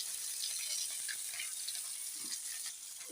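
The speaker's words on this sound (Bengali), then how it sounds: "শোল মাছ তো একটু কড়া করে ভাজতে হবে।" Snakehead fish frying in a pan, turned until crisp and well browned, give a steady, loud hiss and sizzle with no pauses and no talk.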